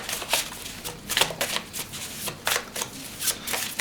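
A deck of handmade cards is shuffled repeatedly up close, giving quick papery riffles and flicks in an uneven rhythm, soft and alone.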